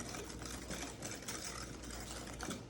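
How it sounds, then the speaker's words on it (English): Steady, dense scraping and clattering of a whisk stirring eggs into carrot cake batter in a bowl, continuous and close for a few seconds with no talking. "And I'm going to stir that around."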